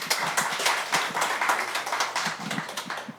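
Applause from an audience at a residents' redevelopment briefing meeting, a dense run of many hands clapping continuously and fairly loudly for a few seconds, slowly thinning toward the end.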